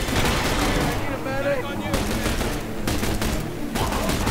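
Rapid bursts of gunfire in The Bureau, a squad-based shooter, crackling in repeated volleys with short gaps between them, loud and close, mixed with game noise.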